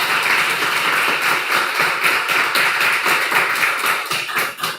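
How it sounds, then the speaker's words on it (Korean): A church congregation at a Friday night worship service claps together in dense, steady applause that stays loud and close for the whole stretch, fading slightly at the end. "장로님 감사하면 박수 한번 쳐주세요"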